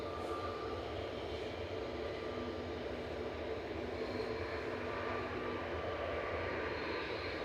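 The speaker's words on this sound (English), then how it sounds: "EasyJet 2183 departing GEZWX going to Geneva" An EasyJet airliner departing Manchester Airport for Geneva, a distant, fairly faint jet rumble that stays steady and unbroken throughout.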